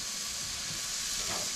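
Pork ribs sizzling on a grill just after being flipped, a loud steady hiss and crackle of fat and juices that fills the short moment without a break.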